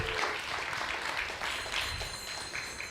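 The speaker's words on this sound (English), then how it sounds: "Let's give him one more big round of applause" A temple congregation gives a final round of applause for the speaker at a Hare Krishna service, a soft, continuous clapping that stays low and steady, with no voices on top.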